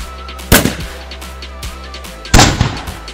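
Diwali firecrackers go off near a water tank, two sharp loud bangs about two seconds apart, each with a short echoing tail and faint crackling between them.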